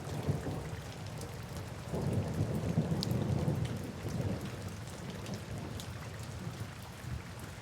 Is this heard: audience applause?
no